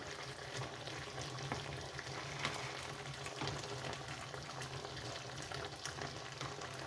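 Beef frying with ginger garlic paste in a pan, a faint, even, continuous sizzle with light crackles and occasional soft stirring, with no one speaking.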